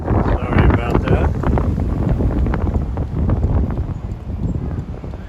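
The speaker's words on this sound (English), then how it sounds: "The wind was super brutal coming down this way" Strong wind buffeting the microphone along Route 66 near Williams, Arizona, a loud, constant low roar and rumble with gusty swells, heavy and close for the whole stretch.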